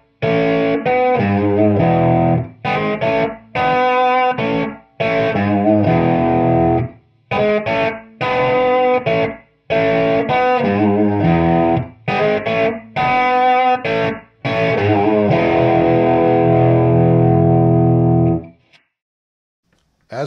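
Electric guitar played through an Axe-FX III patch using only an amp block and a cab block, with room simulation off, delivering loud distorted chords and riffs in choppy bursts with short gaps, then a long ringing chord that fades into silence.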